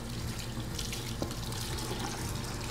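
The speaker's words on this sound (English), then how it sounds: "Start by making your hands wet with clean running water." Clean tap water runs steadily into a sink for hand washing, a constant close splashing rush with no pauses.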